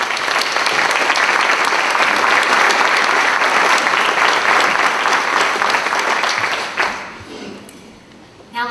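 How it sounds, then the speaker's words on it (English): An entertainment show audience gives the sponsors a dense, loud round of applause that holds steady for several seconds, then drops away abruptly before a brief sound near the end. "Let's give them all a round of applause"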